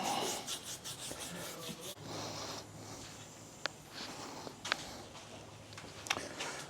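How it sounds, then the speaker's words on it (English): A burnishing brush rubbed over the wood of a waterfall table: close, rhythmic brushing strokes at first, then a steady broad scrubbing hiss with a few sharp knocks, no speech. "we've got to burnish this on"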